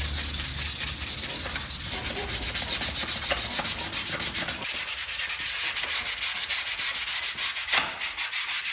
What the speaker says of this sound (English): I'm gonna try it with some actual 400 grit sandpaper instead